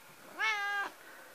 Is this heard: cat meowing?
yes